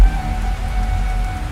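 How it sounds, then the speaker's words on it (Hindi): Heavy rain pouring steadily in a forest during a thunderstorm, a dense close hiss with no voices and no distinct thunder crack. "कड़कड़ाती बिजली की आवाज और जोरदार बारिश के बीच जंगल में"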